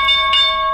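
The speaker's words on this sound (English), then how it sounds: "So that's the bell. The market's now closed." A stock market closing bell rings at 4 o'clock, a loud bright sustained metallic tone with clear harmonics, struck again partway through and ringing on alone.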